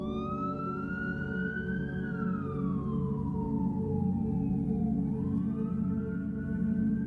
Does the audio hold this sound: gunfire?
no